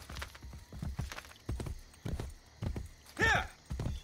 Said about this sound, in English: I need to call the horse right now.